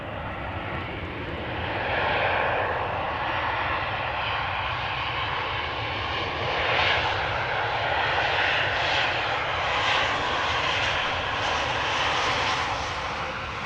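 A jet airliner roars at Amsterdam Schiphol Airport during departures and arrivals, heard as a steady, fairly distant engine rumble that swells slightly and holds for the whole stretch with no talk.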